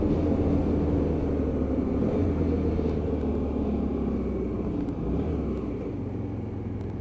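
A Hyosung GT125R motorcycle rides along on a cold, wet day, a steady loud engine rumble and road noise heard from onboard with slight pitch shifts throughout.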